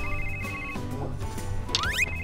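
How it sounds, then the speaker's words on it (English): Outdoors during a fishing session, a phone ringtone plays a loud electronic melody with rising and falling tones over a steady background hum, with no one talking. "Is that my phone ring?"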